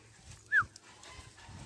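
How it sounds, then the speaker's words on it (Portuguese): A large backyard guard dog gives a single short whimper or yip, brief and moderately close against a quiet outdoor background. "Meu cão de guarda aí, ó."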